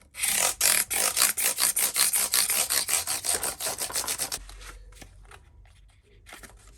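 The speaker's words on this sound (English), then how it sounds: "So using something reasonably flexible, we can use some 400 grit sandpaper." Rapid back-and-forth rasping of 400 grit sandpaper on the frets of a Made in Mexico Fender Telecaster during a fret level, loud and steady for about four seconds, then fading to faint scattered scratches.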